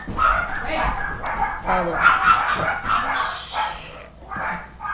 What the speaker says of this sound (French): Oui, il y a plusieurs chiens.